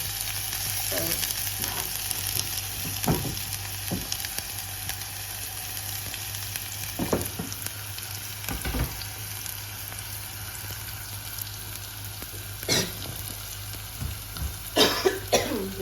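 Garlic and chopped onion sizzle steadily in a hot pan, a constant close frying hiss broken by a few sharp utensil clinks and knocks.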